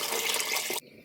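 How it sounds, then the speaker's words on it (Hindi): Hot water poured into a cooking pot of sautéed dal and rice, a steady broadband pouring rush for most of a second before cutting off abruptly. "फिर इसमें गर्म पानी ऐड करेंगे।"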